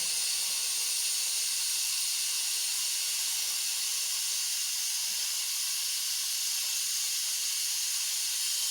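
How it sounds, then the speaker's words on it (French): Steam hisses steadily from a pot of boeuf bourguignon at the end of cooking, a continuous bright, airy rush that holds at an even, moderate level throughout with no talking. "bien attendre que la vapeur s'en aille avant d'ouvrir le couvercle."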